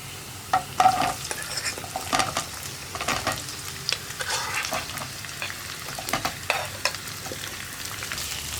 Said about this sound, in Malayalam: ഒന്ന് കുക്കായി തുടങ്ങുമ്പോൾ തന്നെ നമ്മൾ കട്ട് ചെയ്ത് വെച്ചിരിക്കുന്നത് നമ്മുടെ സവോള ചേർത്ത് കൊടുക്കാം